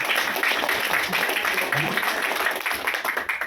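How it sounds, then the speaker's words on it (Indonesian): A business seminar audience breaks into brief applause, a moderate patter of clapping hands that sits alongside some murmured voices. "tepuk tangan dulu"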